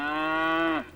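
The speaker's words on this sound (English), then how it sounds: "They go moo, and they are cows." A single loud, close cow moo, one sustained harmonic-rich low call of about a second that bends down and fades at the end, heard alone.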